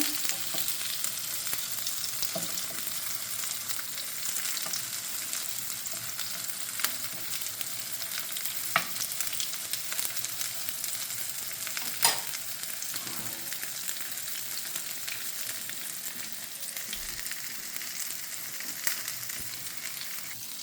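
Minced meat cutlets frying in a pan with a steady, even hiss of sizzling fat, fairly quiet and close, with a few faint clicks from a spatula and no talking.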